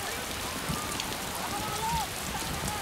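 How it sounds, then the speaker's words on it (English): Heavy typhoon rain pouring down steadily in a dense, loud, continuous hiss on surfaces, with a faint voice briefly under it. "dumping a month's rain in just 6 hours."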